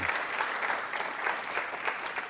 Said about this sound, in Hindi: इस जानकारी के लिए भी तालियां जोरों से बजाइए